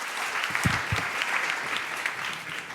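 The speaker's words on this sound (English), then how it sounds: "Give a big applause for Aaron from Fisheroo." Audience applause at a startup demo day for a plant-based food incubator, a steady wash of clapping with a couple of louder claps near the start, moderately distant and continuous throughout.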